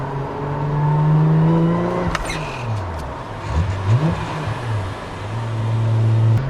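A nearby Toyota Mark II's 2.5-liter turbocharged 1JZ engine revs up and down repeatedly, its pitch rising and falling with a turbo whir, loud and close.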